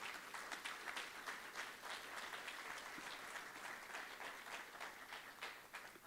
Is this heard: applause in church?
yes